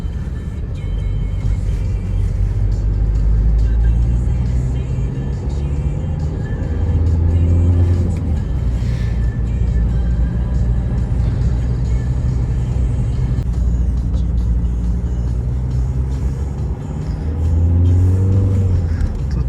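A Volvo V diesel car imported from Belgium accelerates on the road, its engine rumble rising and falling through a couple of rev climbs. The drone stays loud and close and plays without talk.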